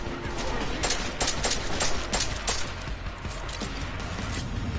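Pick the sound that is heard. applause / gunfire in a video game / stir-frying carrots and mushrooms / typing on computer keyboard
gunfire in a video game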